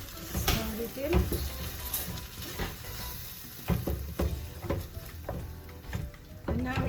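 Tomato is stirred into a cooking pot with a spoon, the scrapes and knocks against the pot coming in irregular bursts under a faint sizzle while people speak nearby.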